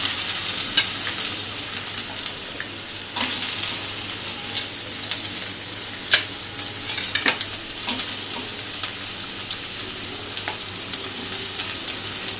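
Finely chopped potatoes fry and sizzle steadily in a pan with mustard seeds, with a continuous bright crackle broken by occasional scraping stirs of a spoon, close and fairly loud, with no talking.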